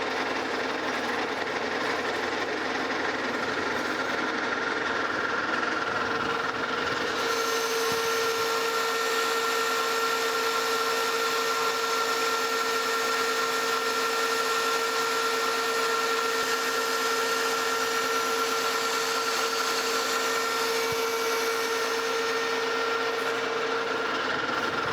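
A metal lathe takes a 200 thou cut on a variable speed V-belt pulley for a DoAll 26-inch vertical band saw, a continuous loud machine drone with a steady tonal whine throughout.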